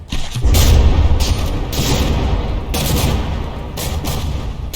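Battleship gun volleys in the naval combat game From the Depths, loud rapid bursts of heavy gunfire rolling together into a continuous barrage with several sharp volleys punching through.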